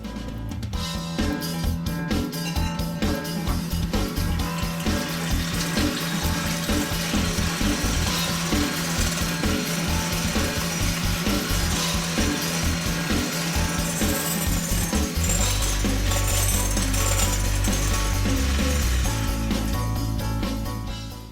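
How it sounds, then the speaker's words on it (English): An electric mixer's beaters whip egg whites toward soft peaks, a loud continuous motor whir with rattling beaters against the bowl, steady throughout and shifting lower near the end. "We start with the egg whites and we're going to beat these to soft peaks."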